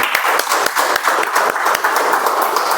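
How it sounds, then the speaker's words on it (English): Dense applause from a room full of people, steady and loud with sharp individual claps standing out, lasting a few seconds without pause. "Let's give a good round of applause to our tag team"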